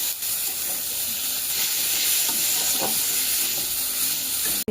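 Cut beans and carrots frying with salt and turmeric produce a loud, steady sizzle and hiss up close, broken by occasional stirring scrapes, with no talking.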